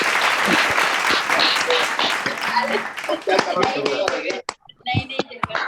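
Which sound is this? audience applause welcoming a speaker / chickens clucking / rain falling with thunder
audience applause welcoming a speaker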